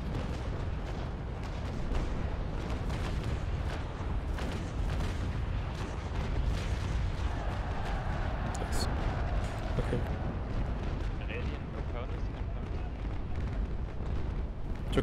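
Ship cannon fire during a Naval Action port battle at Macao, a dense, continuous rumble of booming broadside shots and distant explosions layered over one another, steady and loud throughout with no pause.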